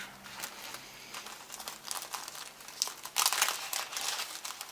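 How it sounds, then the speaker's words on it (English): A plastic sleeve is pulled off a Jasmine 1/72 Valkyrie model kit, producing close, irregular crinkling and rustling that swells louder toward the end. "We take the plastic sleeve off."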